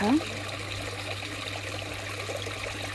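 Water trickles steadily in a woodland stream, a soft continuous wash with a faint low hum beneath and a brief higher sound at the very start.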